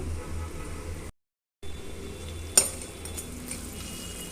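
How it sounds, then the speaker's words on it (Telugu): Ginger garlic paste fries with spices and onions in a pan for coconut milk rice. A low, steady sizzle runs throughout, broken by a brief silent gap and a single sharp utensil clink, with no talking. "అల్లం వెల్లుల్లి పేస్టు పచ్చివాసన పోయే వరకు ఫ్రై చేసుకుందాము"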